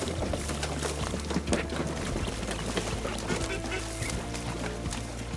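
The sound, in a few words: released banded birds quacking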